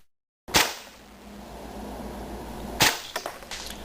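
A Tokyo Marui Hi Capa 5.1R airsoft pistol fires over a chronograph, giving a sharp, loud close snap, a second crack a couple of seconds later, and a few quieter clicks after it.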